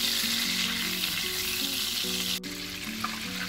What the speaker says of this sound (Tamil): பட்டர் முதல் கரைக்கும்.